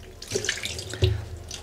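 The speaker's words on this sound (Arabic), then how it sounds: "شوي شوي مندخ عليه المي" Tap water poured slowly over a cat during its first bath, with close, uneven splashing and trickling and no talking.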